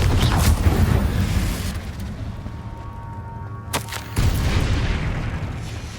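Confringo fire spell explodes in Hogwarts Legacy, a loud booming blast with rumbling low end, followed by a sharp burst near the middle and renewed heavy rumble, with no voices.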